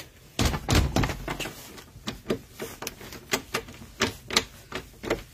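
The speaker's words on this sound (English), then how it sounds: "wait, I can't get the door open." A frozen-shut door on a winter storm day is shaken and rattled, giving a run of sharp knocks and thunks in an irregular rhythm, close and fairly loud, with no talking.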